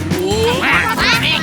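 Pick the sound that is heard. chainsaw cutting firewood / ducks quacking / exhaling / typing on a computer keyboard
ducks quacking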